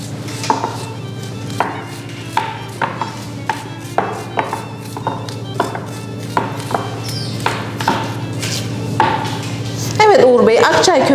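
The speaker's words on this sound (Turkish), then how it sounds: "Öncelikle iki orta boy soğanımızı küçük küçük doğrayalım." A knife chops two medium onions steadily on a cutting board, sharp regular taps about twice a second over a low background hum, with a clatter at the end.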